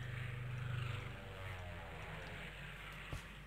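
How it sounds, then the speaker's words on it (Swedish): Airplane engine in a modded Minecraft game, a steady propeller-like drone with a low hum, continuous and moderately close, slightly louder at the start with a brief thump near the end. "Det är flygplansljud."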